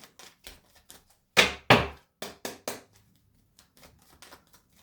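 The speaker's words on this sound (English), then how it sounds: "These cards have got very heavy, stuck together, not wanting to shuffle." Tarot cards, heavy and sticking together, are shuffled by hand nearby, with a string of quick papery riffles and taps, two louder bursts in the middle, then softer shuffling.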